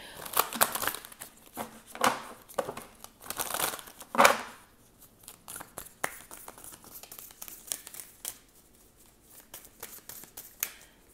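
Tarot cards handled from a deck, with bursts of crisp shuffling, riffling and papery snaps close up, busy at first and then thinning to lighter, scattered flicks.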